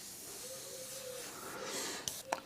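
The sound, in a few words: airbrush spraying transparent paint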